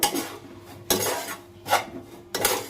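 Semolina kachori filling is stirred in a pan after extra oil is added, giving four scraping, clattering strokes of a spoon against metal at an unsteady pace, close and moderately loud, with no voices.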